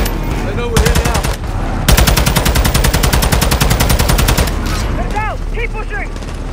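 Rapid machine-gun fire from a realistic PS5 shooter game crackles in long, loud, dense bursts, nearly continuous with brief pauses, backed by a constant battlefield rumble and faint chirping tones near the end.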